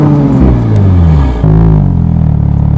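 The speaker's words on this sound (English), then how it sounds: "The car sounds great from the factory." A sports car with a factory dual-tip exhaust and black diffuser revs loudly up close, its engine note rising and falling in a smooth, steady drone with a brief dip partway through.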